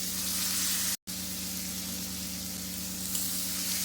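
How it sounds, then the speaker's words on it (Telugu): Boiled peas hiss and sizzle steadily in a hot pan for a cabbage peas curry, a continuous close frying noise with a brief cut near the start, no voices. "మనం ఉడకబెట్టిన బఠానీలు ఇందులో వేసేసుకుందాం. బఠానీలు వేసేసుకోవాలి."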